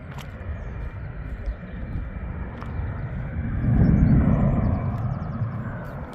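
A fixed-wing airplane passes overhead near Gatwick, a steady broad engine rumble that swells to its loudest around the middle and then eases slightly, heard outdoors with no talk.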